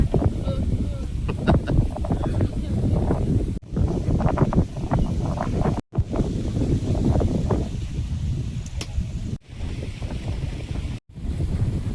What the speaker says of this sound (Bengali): বিরাট ভাবে হাওয়া দিচ্ছে আজকের